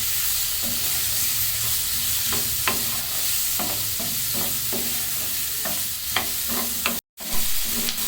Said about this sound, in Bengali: কাজু বাদাম বাটাটা দিয়ে দেবেন এখন একটু নেড়ে চেড়ে কষে নেবেন